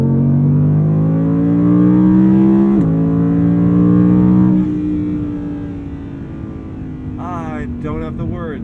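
An Audi R8 V10 engine revs while driving. A loud, close drone climbs in pitch, shifts, then eases to a lower hum, and a person speaks faintly near the end.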